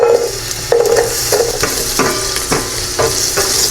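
Onions sautéing in about two tablespoons of cooking oil in a pan, a loud continuous sizzle close up with repeated scraping stirs from a utensil, no voices over it.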